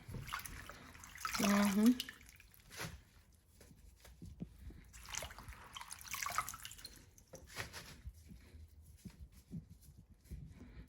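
Harvested winter-sown spinach rinsed under a running tap in a sink, with two separate bursts of flowing, splashing water and dripping in between, fairly close.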